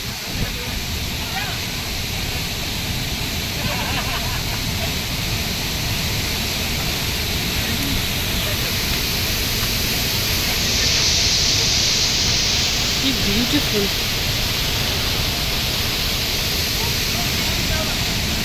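Steady broadband rush of the Harvale waterfall spilling into a river, a constant loud wash of falling water filling the whole clip, with a brief spoken exclamation over it.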